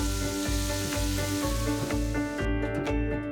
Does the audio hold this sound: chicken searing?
yes